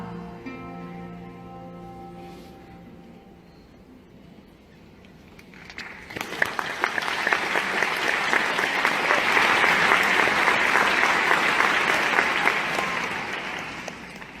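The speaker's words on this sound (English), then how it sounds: "Why is this audience clapping?" A large audience breaks into sustained, loud applause that swells after a quieter stretch of tonal sound and continues steadily as a dense wash of clapping.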